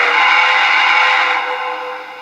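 A loud, sustained steam whistle tone with a harmonic chord, held steadily then slowly fading, electronic and clean like a model train sound effect, from a Broadway Limited HO-scale New York Central 4-8-4 Niagara locomotive.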